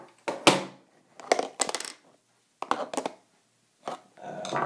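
Sharp bursts from a Smith & Wesson spring soft-air gun, several separate snapping shots and handling clatter spaced about a second apart, loud and close with short silences between.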